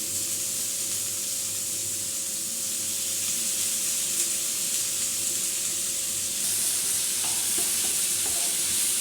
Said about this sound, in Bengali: এখন ওলের ডাঁটা রান্না করতেছি